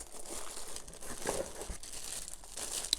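Cardboard packaging from a Ryobi R18AG7-0 18V 4.5-inch battery angle grinder crinkles and rustles as it is handled close by. The sound is a steady, soft crumpling with a few sharper crackles and no talking.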